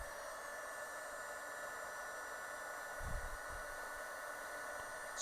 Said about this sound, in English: I always love heat shrinking.